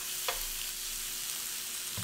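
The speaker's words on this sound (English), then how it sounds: "I have to talk over here so the microphone doesn't just pick up sizzling" Pork sizzles steadily on a hot Asian barbecue grill indoors, a constant close hiss and crackle with a faint clink here and there.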